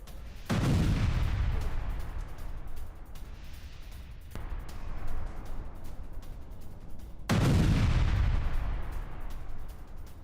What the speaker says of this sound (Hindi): दक्षिण लेबनान में इजरायल की घातक बमबारी।